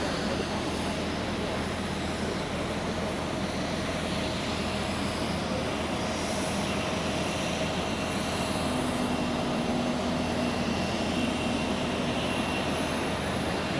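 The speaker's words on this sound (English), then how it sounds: "sie versuchen mit möglichst wenig Leistung offenbar zu starten" A jet airliner takes off at Zurich Airport on reduced thrust, its engines a loud, continuous broadband roar that holds steady throughout with no voices heard.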